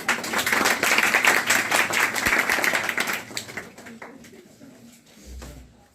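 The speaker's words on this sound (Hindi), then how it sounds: "आइए ताली बजा दो।" A group of people clap together in celebration at an indoor gathering, dense loud applause for about three seconds that then thins out and fades to a few scattered claps.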